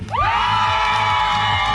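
Company sports day crowd letting out a loud, sustained group cheer and shouting, rising sharply at the start and holding steady throughout.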